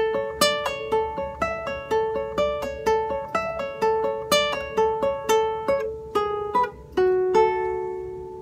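Solo guitar plays a slow melodic phrase from the Paraguayan song "Punteada Okara," with clear plucked notes ringing in a steady rhythm and a final note left to sustain, close and alone with no speech.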